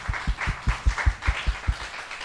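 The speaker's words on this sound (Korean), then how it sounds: "우리 주님 앞에 감사의 박수 한번 올려드리겠습니다." Church congregation claps together in about ten even, rhythmic beats, loud and close, with no voices over it.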